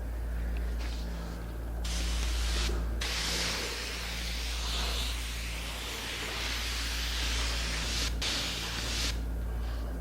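Spray gun applying wood finish along a back-taped edge of a hanging cupboard in a woodworking shop, a steady close hiss running continuously with a few brief pauses between passes.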